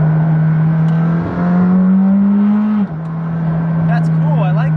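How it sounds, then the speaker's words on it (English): Intake roar from the roof scoop of a McLaren 620R while driving: a loud, steady close-up engine drone whose pitch rises briefly and then drops at a shift, with faint voices near the end. "I've never heard a roof scoop before"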